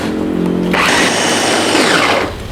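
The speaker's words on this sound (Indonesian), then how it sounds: "Untuk udang keringnya aku akan haluskan menggunakan chopper. Pakai chopper aja ya biar cepat halusnya." An Idealife IL216J electric chopper grinds dried shrimp with a loud, steady motor whir that rises in pitch after a brief start and runs continuously at close range, then begins to wind down at the end.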